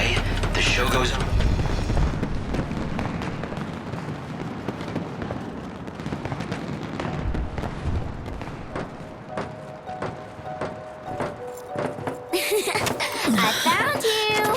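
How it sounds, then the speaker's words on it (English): Fireworks in the video game Final Fantasy XIII Lightning Returns, a string of popping bursts and crackles over a city, with booming low rumble and a busy game soundtrack beneath, ending in a brighter flurry of blasts. "Those fireworks signal to the city that a performance is about to begin."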